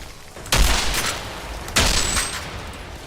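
Armor-piercing explosive bullets fire in the video game Outriders: two heavy, loud bursts about a second apart, each trailing a rumbling, crackling tail.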